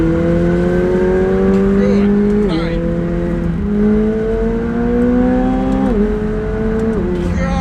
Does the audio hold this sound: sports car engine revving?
yes